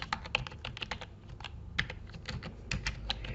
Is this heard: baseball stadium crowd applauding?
no